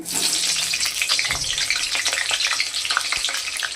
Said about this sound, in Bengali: মটনের জন্য আলুটা আগে ভেজে তুলে নিচ্ছি